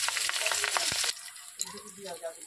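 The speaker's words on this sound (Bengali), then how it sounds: "লঙ্কাটা দিয়েও কিন্তু বেশ একটু লালচে করে ভেজে নিতে হবে।" Green chillies sizzle in hot oil with cumin and dry red chillies for a Bengali bata fish tel jhal, a loud, dense crackle that drops abruptly to quieter scattered spitting and pops.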